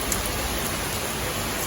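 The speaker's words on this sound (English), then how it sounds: "It's really raining heavily here." Heavy summer rain pours down in Oslo, a dense, steady hiss of drops hitting surfaces close by, constant and even throughout with no voices.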